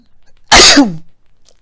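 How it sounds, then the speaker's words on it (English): A single loud, sharp sneeze bursts out close by, followed by a short trailing vocal sound, in otherwise quiet surroundings. "Oh, I'm about to sneeze, y'all."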